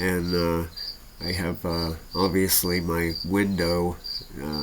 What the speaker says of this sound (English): I apologize if you hear the happy little cricket in the background.